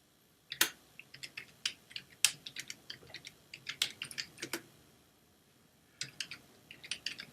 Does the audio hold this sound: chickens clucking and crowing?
no